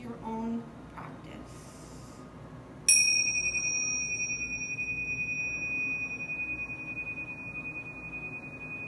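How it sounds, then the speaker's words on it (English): A single meditation bell is struck, ringing out with a clear, sustained tone that slowly fades, following a few soft background sounds. "use the sound of the bells to bring it into your own space"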